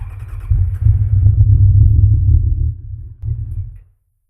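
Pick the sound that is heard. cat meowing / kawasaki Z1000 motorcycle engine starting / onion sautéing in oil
kawasaki Z1000 motorcycle engine starting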